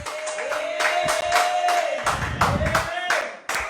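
A church congregation clapping to acclaim the Lord, loud rhythmic claps close by, mixed with a preacher's voice and crowd sounds.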